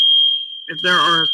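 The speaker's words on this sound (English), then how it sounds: "that's my fire alarm going off. It's going to buzz for a few minutes" A home fire alarm buzzes with one continuous high-pitched tone for the whole clip, loud and close, while a person begins talking over it.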